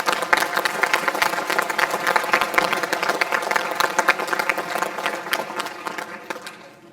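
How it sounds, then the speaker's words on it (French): A seated audience at a New Year's wishes ceremony in Ballan-Miré applauds the town's youth, giving a sustained wash of many hands clapping at steady, moderate loudness that thins and fades at the end. "vous pouvez aussi les applaudir"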